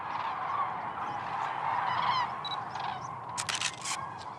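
A flock of cranes passing just overhead at dawn, their honking calls overlapping continuously at moderate loudness, with a few sharper bursts near the end.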